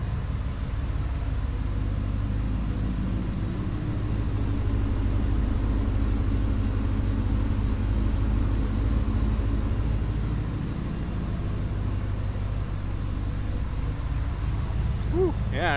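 A Ford SVT Lightning pickup truck engine idles steadily, a continuous low rumble close to the microphone holding an even level throughout, with faint talk briefly audible near the end.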